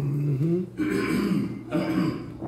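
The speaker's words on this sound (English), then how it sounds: "Let me clear my throat." A man clearing his throat with two rough, harsh bursts at close range, following a brief voiced sound.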